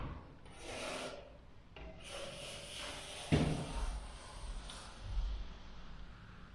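A spatula scraping wet putty filler off a wall, with Rotband paste, Vetonit JS and SEM-LIGHT fillers in use. Long, close rasping strokes repeat over a few seconds, with a brief knock partway through.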